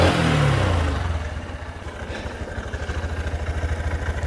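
A Honda CB125F motorcycle engine idles steadily after a brief rev at the start, its low pulsing exhaust thrum close and even with a faint mechanical clatter.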